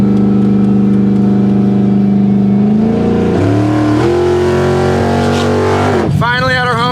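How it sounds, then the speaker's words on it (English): A $3,500 drag car engine, stumbling at wide open throttle at its home drag strip, drones loud and steady, then climbs in pitch through rough revs and surges before a sharp final rise. "my car still brakes up at wide open throttle"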